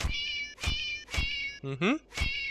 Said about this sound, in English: there's supposed to be a meowing noise. Because that's how the doll is designed